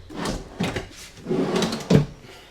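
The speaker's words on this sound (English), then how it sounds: "So yeah, you've got all these storage drawers." A kitchen storage drawer in a 2025 Keystone Sprinter 3840LRK RV is opened and closed, several close sliding runs and soft thumps spread over a couple of seconds, with no voices.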